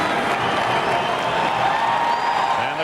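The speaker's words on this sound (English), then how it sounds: "the crowd rises to its feet to cheer the Rangers" A hockey arena crowd cheering for the New York Rangers during a 1999 game against the Vancouver Canucks, a dense, sustained roar of cheers and applause filling the whole stretch at a steady loud level.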